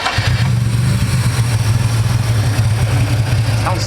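Nissan 370z with a swapped VR30 engine idling close by, a loud steady low drone with a slightly uneven pulse and hints of roughness throughout.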